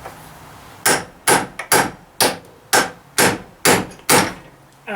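A hammer strikes a steel knuckle on old equipment, eight loud metallic blows in an irregular rhythm, close by, with no talk.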